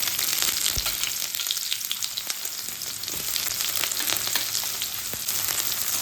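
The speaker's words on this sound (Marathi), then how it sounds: "कांदा आपण छान परतून घ्यायचा।" Chopped onion fries in hot oil with cumin seeds, a close, steady crackling sizzle with occasional sharper pops and stirring scrapes throughout.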